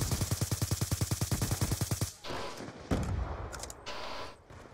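Rapid automatic gunfire in Call of Duty: Black Ops 2, a steady burst of about twenty evenly spaced shots, followed by a few scattered louder shots and game effects.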